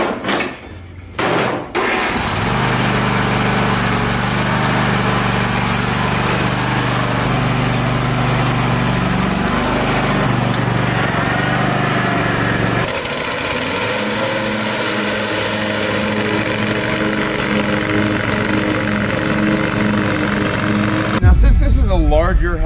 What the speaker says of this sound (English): Hear that? It sounds like a V-twin.